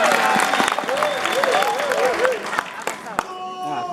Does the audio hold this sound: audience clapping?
yes